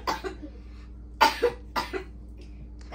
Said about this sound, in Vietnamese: Ho cỡ đó.